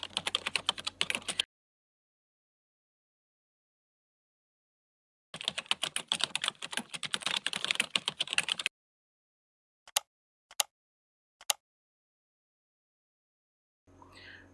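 HTML code is typed on a computer keyboard in two fast, dense bursts of clattering keystrokes separated by silence, followed by a few single isolated key taps.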